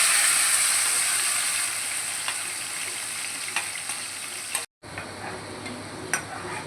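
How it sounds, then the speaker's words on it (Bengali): Chicken coated in turmeric, chilli powder, chicken masala and ground black pepper fries in hot oil in a frying pan, giving a steady close sizzle with scattered small ticks and a brief cutout partway through. "এটা আমি ভালো করে ফ্রাই করে নিচ্ছি"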